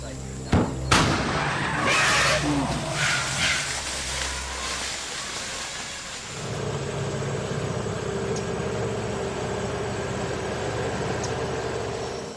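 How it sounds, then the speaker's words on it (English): Two sharp booming blasts from homemade cannons fired to scare off elephants, followed by rumbling echoes and then a steady low background drone. "with homemade cannons."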